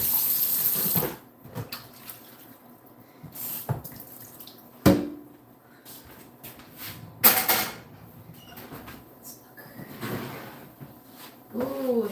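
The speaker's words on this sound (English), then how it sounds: "I use this little scrubbing buddy, as you can tell. And I just get the excess food off of it." Running tap water over a cast iron pan being scrubbed with a small scrubbing pad in a home kitchen sink, steady close water flow with intermittent scraping and clunks, a few louder knocks.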